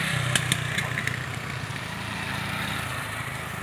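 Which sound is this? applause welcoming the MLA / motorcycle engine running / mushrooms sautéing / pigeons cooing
motorcycle engine running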